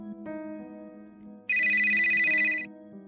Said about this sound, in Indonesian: Ponsel Nandini berdering.